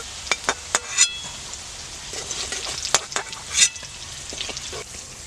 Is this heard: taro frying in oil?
yes